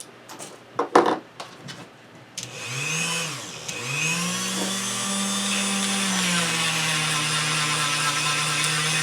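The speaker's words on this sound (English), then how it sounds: "all I'm doing is I'm just going around in a circle on the inside of that PVC pipe" A handheld power tool grinds around the inside of a PVC pipe, spinning up after a few faint knocks and then holding a loud, steady whine with a rising pitch.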